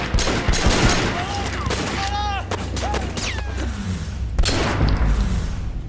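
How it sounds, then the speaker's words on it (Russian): Gunfire in the video game Sleeping Dogs crackles in rapid bursts and scattered single shots, with whizzing ricochets and a steady low hum beneath, loud and close throughout. "Мне очень здесь нравятся звуки выстрелов."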